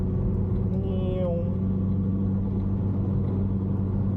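A Lotus on the Cadwell Park race track passes during a cool-down lap, a steady engine drone and road rumble heard from inside another car, with a brief rising whine partway through.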